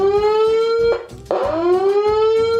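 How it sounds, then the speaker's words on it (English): A warning-siren tone made by holding a horn or alarm button down, a loud steady wail climbing higher in pitch with a brief dip and restart partway through, close and alone. "So I'm doing like the warning siren."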